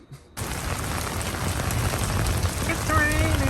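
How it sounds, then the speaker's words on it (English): Steady rain falls outdoors at an evening gathering of people waiting in line, a dense broadband hiss that starts abruptly after a brief quiet moment and continues without a break, with faint voices and a few tonal sounds late in the clip. "It's raining, it's pouring."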